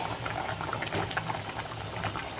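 Aloo dum, a potato curry, simmers in a pot with a continuous soft bubbling and occasional louder pops, close by and moderately quiet.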